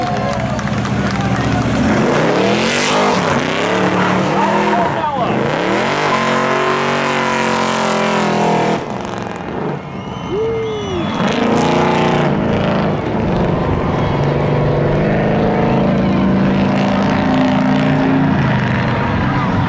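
Spectator cars drag racing at the Seekonk Speedway Labor Day thrill show, with loud engines roaring and rising in repeated rev sweeps as they launch and pull away, while an announcer talks over the din.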